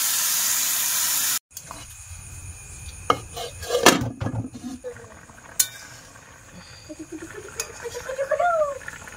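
Water goes into a hot pan of spiced, fried-down fish curry with a loud, close hiss that cuts off abruptly. Scattered clinks, knocks and utensil scrapes follow over a quieter sizzle.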